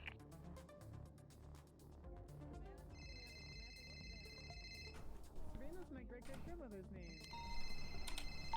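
A payphone in GTA V rings in repeated bursts of shrill electronic trills, while someone talks over and between the rings in a roleplay setting.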